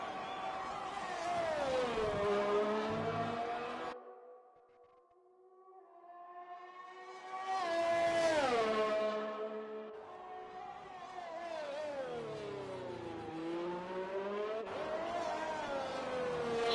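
Race car engine on a hot lap in a sim racing league event at the Australian GP, revving high and sweeping up and down through the gears, dropping off briefly for a corner before climbing back to full power.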